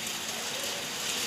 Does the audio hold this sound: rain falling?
yes